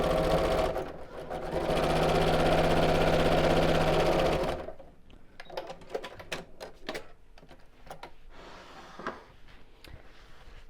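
A sewing machine runs in one continuous, loud burst of rapid whirring for about four seconds as it stitches around a fabric shopping tote. Quieter clicks and handling sounds follow after it stops.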